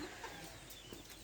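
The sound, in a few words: laying hens clucking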